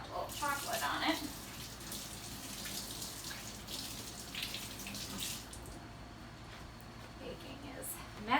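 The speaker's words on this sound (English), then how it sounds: "Rinse my finger off, I got a little chocolate on it." Tap water runs steadily into a kitchen sink while chocolate is rinsed off a finger during brownie baking, a continuous close splashing hiss with brief louder spurts at the start and end.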